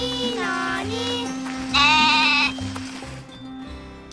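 A cartoon goat bleats in wavering, sustained cries over a low, steady musical drone. A brighter, louder bleat comes in the middle, and the clip ends on quieter trailing sounds.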